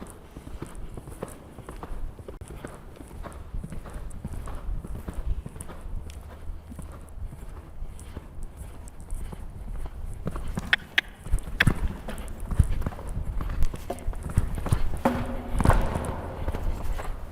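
The hooves of an eight-year-old horse in a jumping lesson clip-clop at a steady walking rhythm over constant background noise, with a few sharper knocks later on; no voices.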